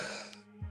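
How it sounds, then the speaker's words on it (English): A single short cough or throat clearing, close and fairly quiet, as someone reacts to French white tea. "Whatever this is making me cough."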